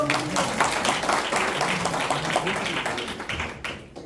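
Applause at a Korean civic forum opening ceremony in Incheon, a close, lively burst of clapping from a modest gathering with distinct individual claps that thins and fades out near the end.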